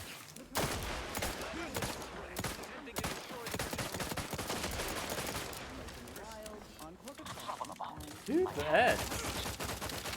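Bursts of rapid automatic gunfire from a weapon in the video game The Outer Worlds crackle in a dense, uneven barrage, with a voice speaking briefly near the end.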